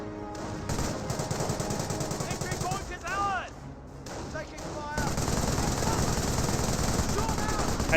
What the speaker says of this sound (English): The Rifleman is shooting back